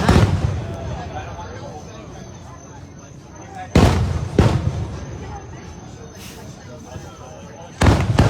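Fireworks display watched by onlookers: sharp broadband bursts at intervals, louder blasts near the middle and end, over a continuous crowd murmur and background chatter.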